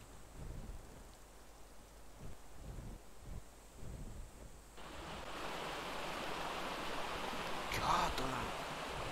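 River water rushes steadily in the ARK Genesis game world. A soft hiss swells into a louder, continuous broadband flow partway through, with faint talk in the background.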